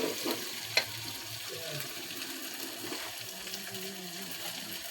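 Finely chopped onions sizzle and fry in a pan in a steady, close crackle, with a light stirring clatter near the start.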